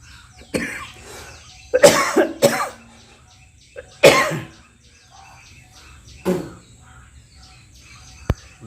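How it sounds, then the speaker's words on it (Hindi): A person coughing and clearing the throat during a throat yoga exercise for tonsillitis, several harsh separate bursts spread across the clip, close and fairly loud over a quiet background. "देखा आपने, खांसी आ गई मुझे भी।"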